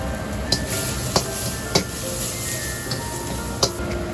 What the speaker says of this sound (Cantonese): 中火爆香啲蒜蓉去到微微金黃色